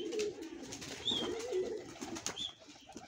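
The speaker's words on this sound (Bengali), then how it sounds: "অসংখ্য কবুতর, এতে অনেক রকম কবুতর আছে" A flock of many pigeons of several breeds, including Nafsa, Malbai Punjab and Giribaz, coos steadily in overlapping low murmurs at a backyard loft, with brief higher chirps breaking through.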